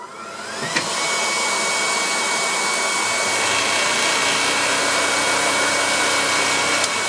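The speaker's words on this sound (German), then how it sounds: "So, nochmal Staubsauger an." A vacuum cleaner in a woodworking shop, used alongside a Pegas scroll saw cutting 75 mm thick wood, switches on and runs steadily with a loud, high-pitched whirring drone.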